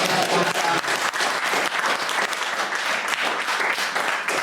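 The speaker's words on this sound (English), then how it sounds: "should we give Clint a round of applause?" A workshop audience of about thirty claps for Clint in a short, steady burst of applause that stays fairly close and even throughout.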